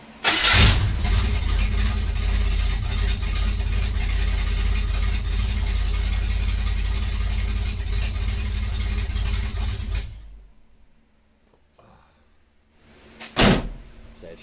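A 1962 Buick Special cranks and fires from cold, settling into a loud rough idle for about ten seconds before shutting off, followed by quiet and a car door thud.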